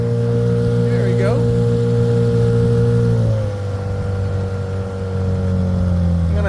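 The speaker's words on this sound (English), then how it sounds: "Let me go ahead and turn up the engine." The outboard engine on a Saturn SD415 inflatable boat drones steadily on the water, a loud, close, tonal hum that changes pitch midway as the throttle shifts, with voices faintly over it.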